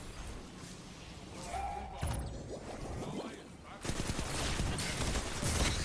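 Rapid gunfire from a weapon in the video game Destiny's Trials mode, several dense bursts and impacts layered over game ambience, growing louder and busier in the second half.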